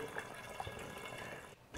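Homemade mead, a honey wine, pouring from a jug into another container, a continuous soft splashing trickle of liquid that runs steadily and then briefly thins out near the end.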